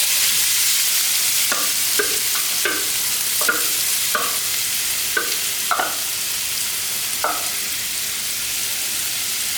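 Battuto for ragù alla bolognese frying in a pan, a constant loud sizzle with a series of soft stirring scrapes spaced through it.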